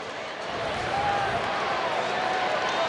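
Baseball stadium crowd at an Oakland Athletics at Los Angeles Angels game cheering after a strikeout on a slider, a steady broad roar swelling slightly and holding, with a commentator talking over it.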